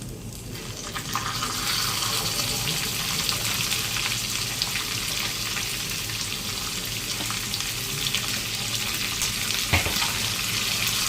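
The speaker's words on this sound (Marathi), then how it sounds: "आणि कांदा पण टाकूया भाजायला. 4 कांदे टाकलेत कापून." Four chopped onions frying in a pan on a slow gas flame for mutton curry, giving a close, steady, dense sizzle and crackle that runs throughout, with a few faint clinks and no talking.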